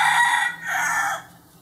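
A rooster crows loudly and close by in two bright harmonic bursts, the second call trailing off, heard alone with no talk.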